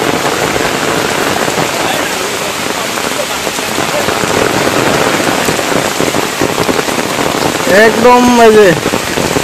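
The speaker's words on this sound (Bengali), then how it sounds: "আরে এমন বৃষ্টি হল কি হল" Heavy rain pours down in a dense, loud, continuous hiss of drops, with brief speech in the foreground near the end.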